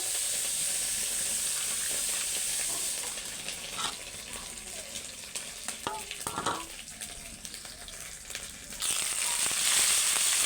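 Ginger frying in a pan of oil tempered with panch phoron, a bright steady sizzle that dips while a spatula scrapes and stirs in short bursts, then rises again, with no voices.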